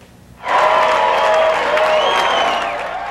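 A large election night crowd of candidates and supporters suddenly erupts into loud, sustained applause and cheering, with whoops and excited voices mixed into a dense, continuous roar.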